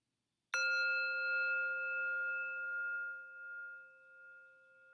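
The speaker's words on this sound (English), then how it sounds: "See if you can pay attention from the very first moment you hear the bell all the way to the end." A single bell struck once after a short silence, ringing with a clear sustained tone that slowly fades over several seconds in a quiet room.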